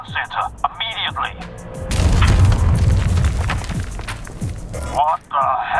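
A heavy explosion rumbles through a Liberated video game on PS4 Pro, a loud low boom lasting several seconds, with voices speaking just before and after.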